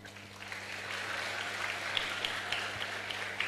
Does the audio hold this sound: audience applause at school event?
yes